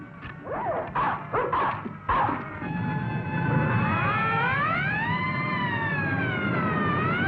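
Dog barking in a 1959 Santa Claus film: several sharp barks and yips in quick succession at the start, followed by a long wavering siren-like howl or whine that rises and falls, fairly close and without talk.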